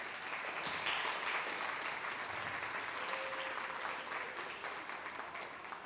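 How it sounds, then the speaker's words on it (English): Steady applause fills a ceremony crowd honouring parents at a Cub Scout pack Webelos Arrow of Light crossover, dense even clapping sustained at full strength throughout and easing slightly near the end. "I just want to give our parents a huge round of applause"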